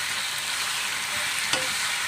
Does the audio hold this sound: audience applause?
no